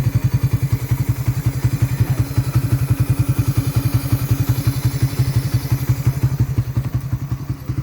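A Raider 150 motorcycle idling close up, its engine thumping in a steady, rapid, even beat that stays loud and alone throughout.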